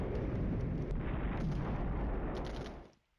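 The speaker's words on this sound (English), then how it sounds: "here comes the artillery" Off-map artillery barrage in the Cold War wargame Flashpoint Campaigns Germany Reforged, a dense, continuous rumbling roar of explosions that stays loud for nearly three seconds before cutting off abruptly.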